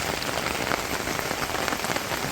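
Rain patters steadily on surfaces near freshly planted rice paddy fields, a dense close hiss of drops with no voices.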